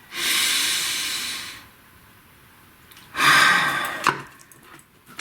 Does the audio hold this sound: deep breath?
yes